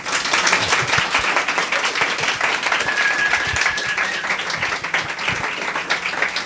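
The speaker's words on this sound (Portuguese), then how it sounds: "Uma salva de palmas," A symposium audience breaks into loud, sustained applause, many hands clapping close and continuously, with a faint voice briefly audible beneath the clapping.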